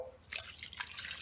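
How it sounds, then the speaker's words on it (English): About half a cup of water is poured into a can in a home kitchen, splashing and trickling in a few quick bursts close up. "And I'm actually going to put about a half cup of water in,"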